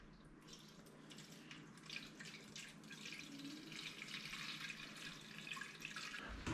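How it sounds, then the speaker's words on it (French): Water poured into the small reservoir of a SwitchBot smart humidifier on a wooden desk, a faint, steady trickle and splash running throughout. "je vais tout simplement remplir mon petit réservoir"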